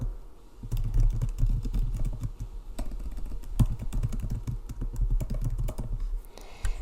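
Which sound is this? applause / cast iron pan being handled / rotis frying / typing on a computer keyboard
typing on a computer keyboard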